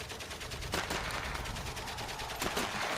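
Rapid bursts of rifle and machine-gun fire in the World War One video game Valiant Hearts, a steady crackling barrage with a few louder shots standing out, no talking.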